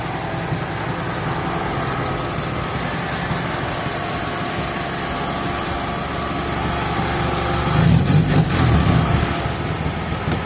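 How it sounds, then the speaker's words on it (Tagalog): A small-body Toyota car engine idles steadily with a low, continuous rumble, growing slightly louder and rougher for a moment near the end. "Yan, maandar na yung makina natin."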